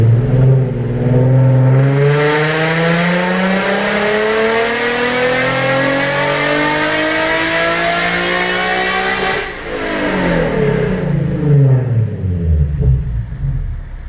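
A Nissan 370Z that has been switched from dual to single exhaust is revving hard on a dyno. Its loud engine climbs in pitch through one long sustained pull, then drops away briefly and surges again.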